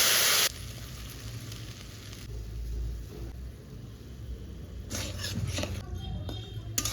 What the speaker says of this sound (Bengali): এবার কড়াইতে মাছ ভাজা তেলে শুকনো লঙ্কা আর পাঁচফোড়ন ফোড়ন দিয়ে দিলাম।